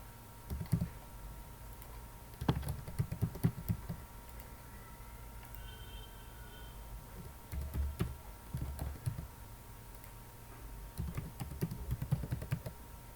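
Someone types a password on a computer keyboard, producing short bursts of soft clicking keystrokes separated by quiet pauses, close and fairly faint.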